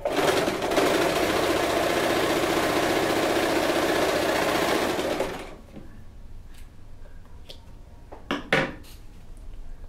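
An Elgin Genius sewing machine stitches steadily and loudly at close range for about five seconds, with tension set to 4, then stops; a few faint clicks and handling sounds follow.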